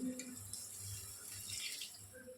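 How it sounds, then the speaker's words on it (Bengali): Water poured from a vessel into a vegetable curry in a pan, a short soft splashing, gurgling pour that runs evenly for a couple of seconds, fairly faint and without talk. "আমি এখানে একটু জল নিয়েছি জলটা দিয়ে দেবো"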